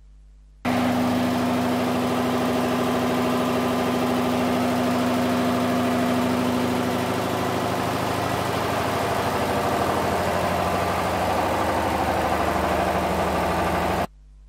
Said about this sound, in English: allow the engine to run for 1 or 2 minutes so that the system gets stabilized